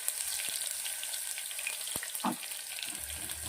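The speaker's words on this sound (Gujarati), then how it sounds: "સરસોનું તેલ સરસ ગરમ થઈ ગયું છે। રાઈ અને જીરું નાખું છું 1 ચમચી" Garlic, ginger, mustard seeds and cumin sizzle in hot mustard oil for khichdi tempering, a steady close-up frying hiss with scattered pops and a couple of sharp crackles.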